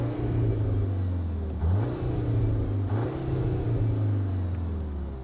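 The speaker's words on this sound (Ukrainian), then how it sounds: "коли ти перемикаєш режими, давайте послухаємо, як він звучить. Це звичайний режим" A CUPRA Leon hatchback engine in normal drive mode idles with a low rumble and is revved twice, the pitch briefly rising and falling each time, close and steady throughout.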